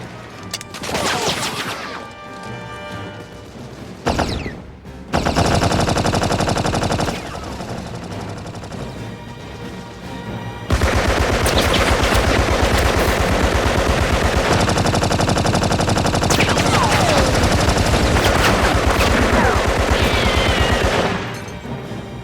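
Sustained machine gun fire in a World War I trench battle, dense rapid bursts with some gaps early on, then a long, loud continuous fusillade.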